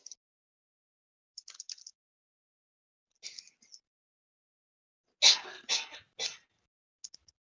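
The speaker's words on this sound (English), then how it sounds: "that was an echo of my cough" Several short coughs and throat-clearing bursts, faint and echoing, spaced out among near-silence, with a cluster of three louder coughs toward the end.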